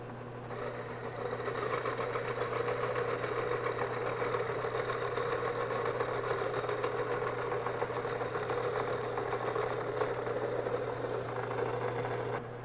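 A Ringmaster wood turning machine runs with a steady motor hum and a faint rattle, close and constant, with no talking.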